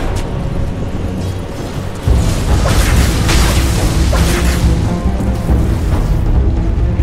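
A Dota 2 tower collapses in a deep, loud boom that rolls on for several seconds amid ongoing battle noise, with a brief announcer-style voice faintly present.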